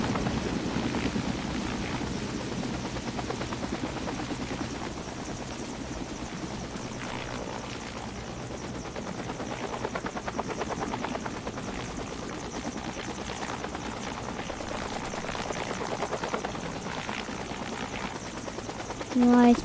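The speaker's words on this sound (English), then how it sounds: "Helicopter going down." Helicopter in a flying game, a steady close rotor and engine drone with faint chopping that runs the whole stretch and swells louder at the end.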